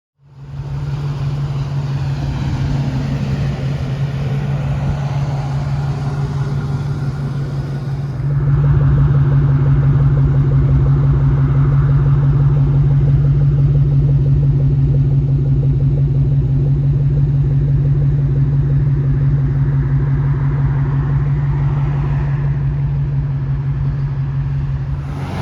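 A Ford Mustang Mach 1 with the 4.6L engine drives along, giving a steady loud engine rumble and drone that swells and thickens partway through as it pulls, with no talking.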